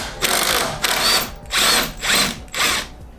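A power drill fitted with a 5/8 socket whines in four or five short loud bursts with brief pauses, removing a lawn mower blade up close.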